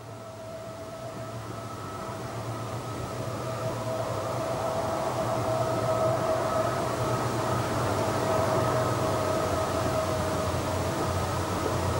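A Burlington Northern freight train passing at Palmer Lake, a steady loud rumble that swells over the first few seconds and holds, with sustained droning horn-like tones riding on top.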